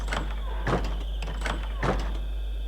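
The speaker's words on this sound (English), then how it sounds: "And also changes some of the sounds of the blocks," Door in Minecraft with a Skyrim sound pack, a wooden door creaking and thudding open and shut about four times in a steady rhythm over a low game hum.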